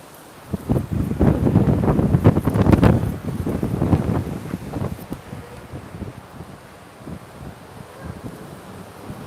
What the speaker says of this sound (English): Look at these plants and the way that they're blowing.